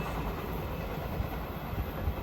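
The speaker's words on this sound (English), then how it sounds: "There goes your eastbound Amtrak Capital Corridor train 540 to Sacramento." Eastbound Amtrak Capitol Corridor train 540 bound for Sacramento rolls past as a steady, broadband rumble that holds evenly throughout, with faint rhythmic wheel clatter and no voices.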